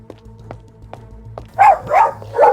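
A cartoon dog barks in a children's story: three loud, close barks in quick succession after a quiet stretch of soft background tones.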